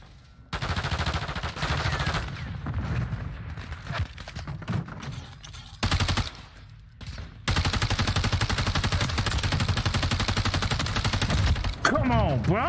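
Dense bursts of automatic gunfire from a Call of Duty: Modern Warfare 3 multiplayer match, loud and sustained with short pauses, sharp transients repeating rapidly across most of the stretch.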